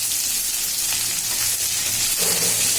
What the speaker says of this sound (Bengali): ভালো করে ভেজে নিতে হবে কিন্তু